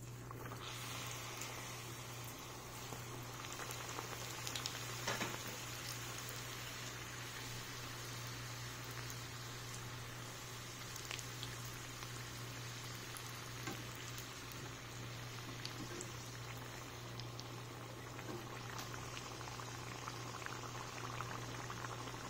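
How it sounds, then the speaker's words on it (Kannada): Onion samosas deep-fry in hot oil with a steady, faint bubbling sizzle that continues evenly throughout, close by and with no voices. "ನೋಡಿ ಎಣ್ಣೆ ಕಾದಿದೆ ಈಗ ಇದಕ್ಕೆ ನಾವು ರೆಡಿ ಇಟ್ಕೊಂಡಿರೋ ಸಮೋಸನ ಡ್ರಾಪ್ ಮಾಡೋಣ"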